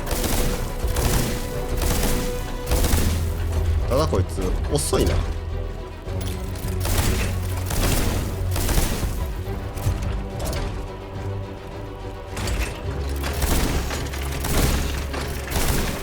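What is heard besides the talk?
explosions of flying projectiles landing, from video game Steelrising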